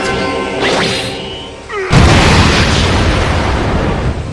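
Divine Execution ultimate attack in Dragon Ball Xenoverse 2: rising tonal energy charge and whooshing sweeps build for nearly two seconds, then a sudden loud explosive blast erupts into a sustained crackling, rumbling roar.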